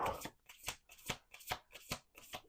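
A deck of tarot cards shuffled by hand close up, about six quick riffling bursts in a steady rhythm, quiet and alone with no talking.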